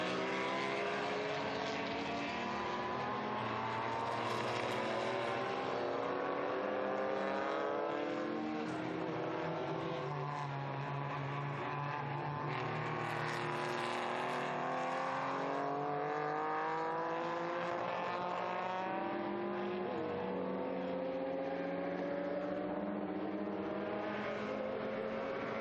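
Historic race cars, including a Porsche and a small sports racer, power hard out of a corner at Estoril, engines droning continuously and fairly loud with shifting pitch as they accelerate and pass.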